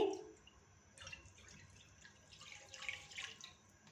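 Milk poured into a pan over medium heat for macaroni pasta, a soft, quiet liquid trickle and splash running through the whole stretch, faint and close, with no talking over it.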